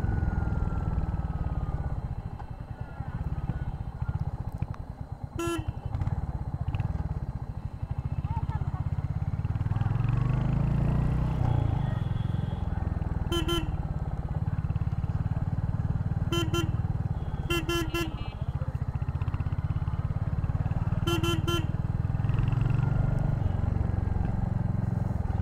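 A Royal Enfield Hunter 350 motorcycle rides through traffic, its steady engine drone continuous throughout, with several short car horn toots sounding at intervals and a voice talking over the ride.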